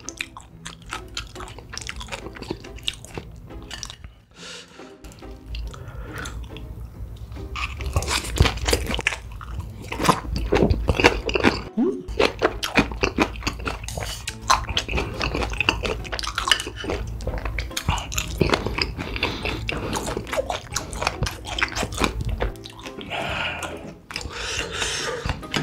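Close, crunchy chewing of grilled whole beef tripe (daechang), crispy outside and juicy inside, on a hot iron plate, with wet bites and faint dish clatter running steadily throughout, louder after the first few seconds.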